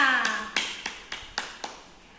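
Students in a classroom give a brief, sparse clap: about six distinct, separate claps spaced evenly, fairly close and moderately soft, with a voice trailing off at the start.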